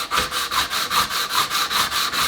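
Sandpaper rubbed over a metal surface in steady full-length front-to-back strokes, about ten even rasping passes at a regular rhythm, close and fairly loud, with no talking.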